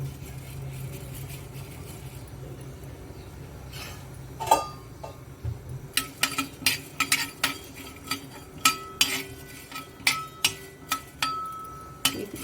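Coriander seeds get stirred in a shallow layer of oil in a pan, a faint low hiss first, then a run of sharp metallic spoon scrapes and clinks against the pan at a steady pace.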